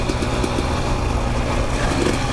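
A motorcycle engine running smoothly at a steady idle, a continuous close rumble with no speech.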